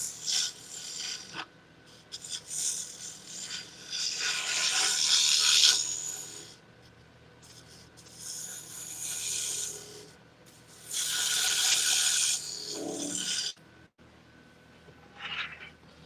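Freshly sharpened turning tools cutting wood on a lathe, coming in bursts of loud, hissing scraping, each a few seconds long, with quieter gaps between and a short final burst.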